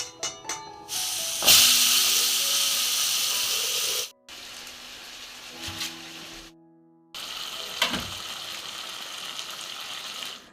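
A cooking pot of water heats toward a boil for fish at an outdoor forest cooking spot, giving a steady hissing, bubbling wash that cuts out briefly twice, with some clinks and knocks.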